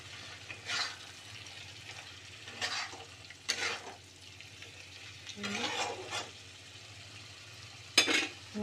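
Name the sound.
shrimp kofta frying in spiced oil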